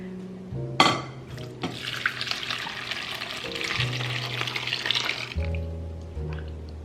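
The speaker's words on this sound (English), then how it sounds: "we're going to pour everything that's left in the crock pot in here" Liquid from a crock pot of chuck roast pours through a fine mesh sieve into a bowl, a steady close splashing and trickling stream that follows a brief clatter at the start.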